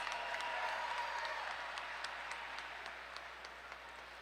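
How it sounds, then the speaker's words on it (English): Crowd at a CageWars mixed martial arts event applauding after a fight, a steady broad clapping wash that slowly fades, heard at a moderate distance and alone. "a round of applause for two great warriors and one hell of a contest."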